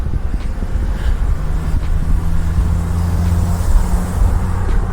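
Road traffic in passing on an e-bike ride, a Tenways CGO600 Plus: steady low vehicle rumble with a passing engine drone, mixed with continuous wind buffeting on the microphone, no talk.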